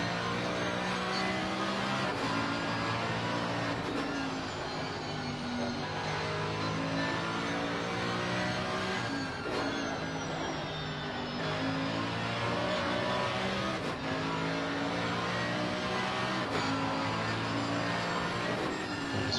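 A race car engine in Assetto Corsa Competizione at Brands Hatch drones steadily through a lap, a loud continuous high-revving whine rising and falling with gear changes and corners, with no voices over it.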